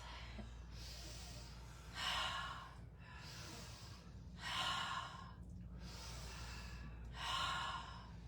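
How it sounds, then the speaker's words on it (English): Slow, paced breathing during chair yoga, with three long airy exhales through the mouth spaced a few seconds apart and quieter inhales through the nose in between, close and soft over a low steady background hum. "Inhale through the nose, exhale through the mouth."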